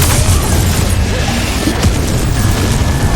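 A Confringo blasting spell explodes in Hogwarts Legacy, a loud, dense booming rumble that stays steady for about three seconds with a brief crackling burst partway through.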